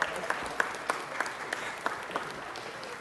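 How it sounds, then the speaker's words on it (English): Steady applause from a city council meeting audience, a fairly quiet continuous patter of clapping with a few sharper individual claps standing out. "Let's give them another round of applause."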